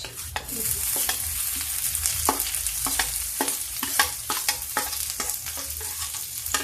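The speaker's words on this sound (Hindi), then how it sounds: "प्याज डाल के इसको हल्का भून लेते हैं" Onions fry in a pan over a low flame for a dry cabbage and pea dish, giving a soft, steady sizzle broken by many sharp scraping and tapping stirring strokes close by, with no talk.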